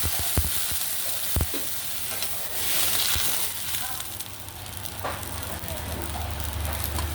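Chopped garlic stir-frying in a wok with a splash of soup stock for curry-powder squid, a steady close sizzle broken by sharp spatula clacks against the pan.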